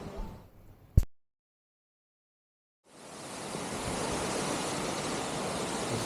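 Jogini waterfall near Manali: after a short knock and two seconds of near silence, a broad, steady roar of falling water rises and holds, loud and close.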